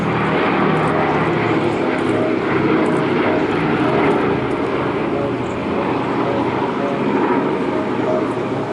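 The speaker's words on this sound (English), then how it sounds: "It's got 4 radial engines, the 1200 horsepower Wright Cyclone turbo supercharged radial engines" A B-17 bomber with four 1200-horsepower Wright Cyclone turbo-supercharged radial engines flies at an air festival, giving a loud, steady, continuous propeller drone throughout, with an announcer talking over it.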